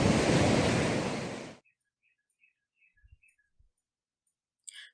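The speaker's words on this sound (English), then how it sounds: "hear the waves pounding on the side of the ship" Waves pound against the side of a ship, crashing and rushing loudly for about a second and a half, then cut off abruptly to near silence broken by a few faint clicks.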